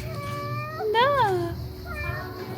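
Several plaintive meows come from a cat at a cafe stop on Thassos, one louder drawn-out cry in the middle flanked by softer calls, close by against a faint background hum.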